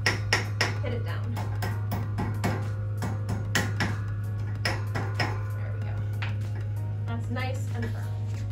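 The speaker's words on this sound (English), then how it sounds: "So we're going to have our trusty mallet." A mallet taps down the corners of a DJ table during assembly, a series of sharp knocks close by, spaced irregularly over a constant low hum.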